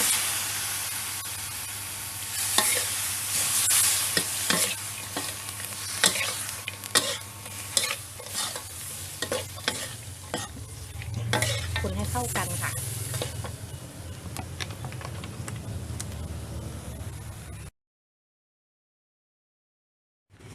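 Crispy pork with holy basil stirred and sizzling in a pan, a steady frying hiss with scraping spatula clicks and a louder bubbling surge after water is added, close and continuous before cutting out.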